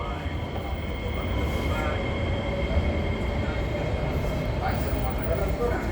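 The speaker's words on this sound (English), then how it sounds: "It's leaving. 409 leaving." SMRT metro train pulling out of a station, a steady loud rumble of wheels and motors with faint squeals, continuous throughout, with people talking over it.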